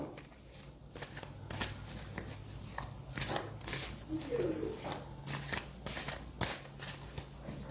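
Deck of cards shuffled repeatedly in bursts of riffling and flicking, close and fairly loud, with a faint low hum underneath and no talk.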